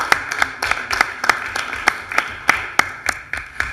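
Applause at a council meeting: a round of hand claps with sharp, distinct individual claps from a small group, fairly close, sustained for several seconds without talking.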